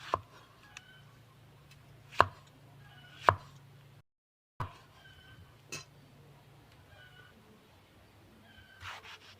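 A few sharp knife chops land on a board, cutting tomatoes, spaced irregularly with quiet pauses between them and no talking.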